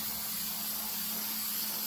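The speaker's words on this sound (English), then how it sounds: "At the bottom side I have to spray again to stick on the" Spray adhesive hissing steadily from an aerosol can onto the foam lining of a DIY Milwaukee tool case, a close, continuous spray with no pauses and no talk.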